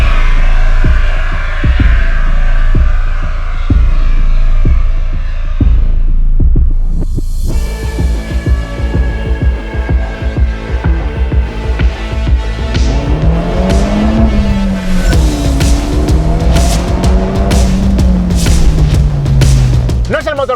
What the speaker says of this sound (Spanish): el turbo soplando, que lo puedes escuchar perfectísimamente